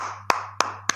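Three sharp hand claps, evenly spaced and close, each ringing out briefly over a faint steady hum.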